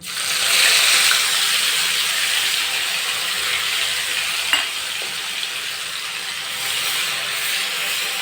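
Ginger, chili and dry garlic paste frying in hot oil for undhiyu, a loud continuous hissing sizzle close up with a couple of faint clinks, no voices.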